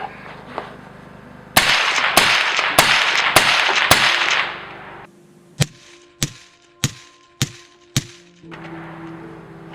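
Suppressed Ruger American .308 rifle fired outdoors at night: a fast string of loud, sharp cracks with noisy tails, then a pause and five more evenly spaced, crisp reports, close by.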